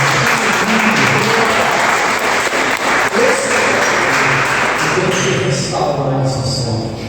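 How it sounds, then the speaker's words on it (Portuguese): A church congregation claps loudly and steadily throughout a worship service, with voices and music blending into the continuous applause. "Você pode aplaudir o Senhor?"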